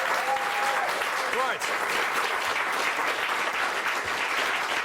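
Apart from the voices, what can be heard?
applause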